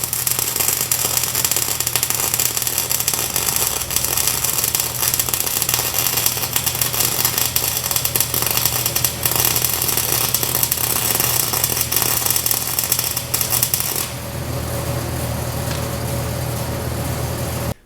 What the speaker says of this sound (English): this 100-year-old steel is not welding very well, so I'm just going to crank the heat up